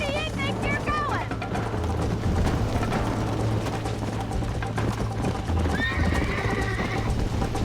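A horse in the Red Dead Redemption video game gallops with steady clip-clop hoofbeats and whinnies loudly several times, while game music and voices play over the running hooves.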